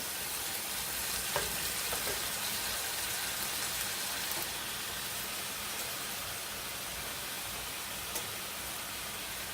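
Taco filling with chili powder and cumin fries in a pan, a dense, continuous sizzle close by with occasional light stirring scrapes and no talking.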